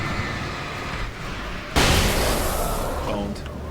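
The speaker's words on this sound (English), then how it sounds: "I'll throw a flashbang." A flashbang grenade going off in the video game Alan Wake, a sudden loud blast that bursts in mid-clip and rings out as a sustained noisy wash, with background game sounds before it.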